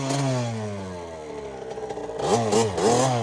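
A KTM 65 two-stroke dirt bike buzzes at a steady idle, then snaps through several sharp, rising revs close by, ending in a burst of throttle blips.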